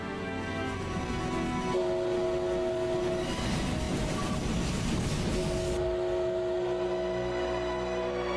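A train passes in a film scene with a steady, loud rumble of rolling wagons, while sustained horn-like tones ring over it before cutting off near the end.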